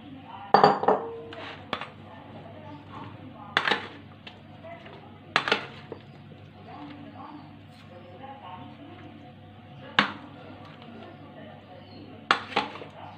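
Fruit chaat is mixed with a spoon in a bowl, giving sharp clinks and scrapes at irregular intervals over a quiet background.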